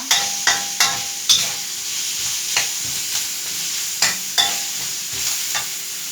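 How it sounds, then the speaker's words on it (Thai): Kaffir lime leaves being stir-fried in a pan for a Thai curry dish, a soft sizzle punctuated by about a dozen sharp spatula clacks against the pan at an uneven rhythm, close and clear with no speech. "ใบมะกรูดค่ะ ผัดต่อไปให้หอมนะคะ"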